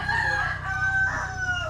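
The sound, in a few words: chicken clucking and crowing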